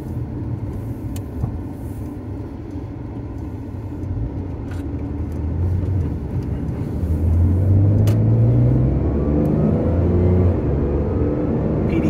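A Porsche 997.2 Carrera S Cabriolet with a PDK gearbox drives away from a farm, its engine rumbling steadily from inside the cabin and rising in pitch as it accelerates through the gears.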